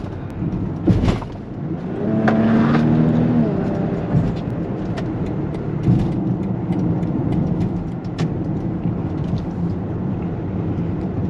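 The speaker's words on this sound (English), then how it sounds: "The B58 sounds so good. It's probably the best sounding inline 6" A 500hp BMW with a B58 inline-six engine drones steadily with a rising rev near the start, continuous road and exhaust roar throughout, with faint voices underneath, passing through a tunnel.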